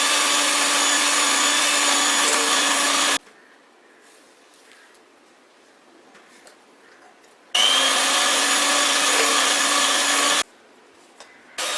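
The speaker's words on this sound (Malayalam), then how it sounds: "അതിന് ശേഷം വീണ്ടും നമുക്ക് ബീറ്റ് ചെയ്യാം. അപ്പോൾ നന്നായിട്ട് മിക്സായി കിട്ടും." An electric hand mixer beats butter and sugar for a strawberry streusel cake batter, running as a loud, steady motor whir for about three seconds, stopping, then starting again in two more bursts with quiet gaps between.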